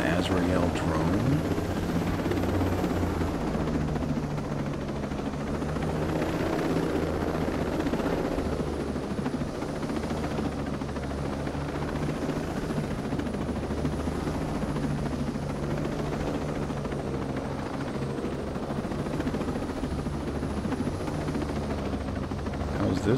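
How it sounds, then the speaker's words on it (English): A hovering Azrael drone in Ghost Recon Breakpoint, a steady loud rotor-like whir lasting throughout with a continuous low droning hum and no breaks. "is that an Azrael drone?"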